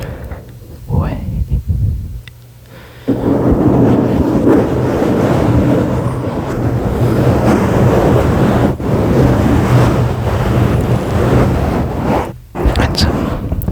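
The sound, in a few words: slow microphone scratching, sounding like crashing waves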